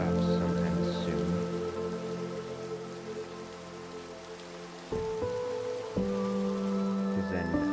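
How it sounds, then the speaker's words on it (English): Rain in Minecraft falls as a steady hiss on the ground, with a droning background tone that shifts pitch partway through, fairly loud and continuous with no talking. "hoping the rain stops sometime soon."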